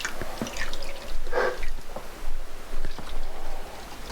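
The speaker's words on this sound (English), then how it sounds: "drain out the top, see how quick that drops. So that's it draining" Water drains from a domestic heating system during a powerflush, dripping and splashing in an irregular run of close, moderately loud drips and trickles.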